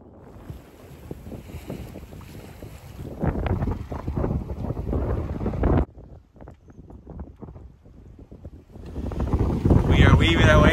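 A sailboat under sail weaves between small rocky islets as wind buffets the microphone in rising and falling gusts, with water rushing along the hull and a voice speaking over it.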